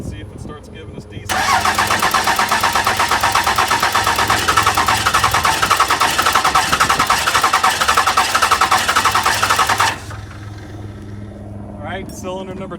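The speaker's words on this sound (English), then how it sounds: "you can hear it starting to kick on the first 2 cylinders" A 12-valve Cummins diesel in a Ramcharger cranks and kicks on its first two cylinders, a loud steady churning rumble lasting about eight seconds before cutting back, with a fan nearby.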